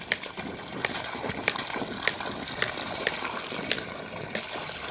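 Steady water gushes from a pipe, a continuous rushing flow with faint periodic clicks or taps recurring throughout.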